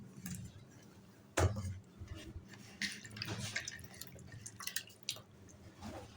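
Raw guavas being washed in water, with splashing and dripping plus light knocks of the fruit against a bowl, close and fairly quiet with no talk.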